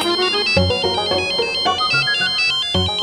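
A melodic electronic ringtone plays loud and steady, repeating its tune over and over with no voices.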